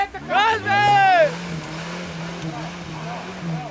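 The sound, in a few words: tractor engine revving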